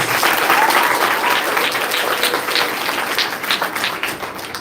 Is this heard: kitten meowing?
no